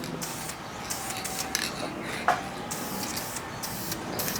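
Spray gun applying Metalcast paint: a steady, fairly quiet hiss of spraying with brief pauses and a few small clicks and rubbing noises along the way.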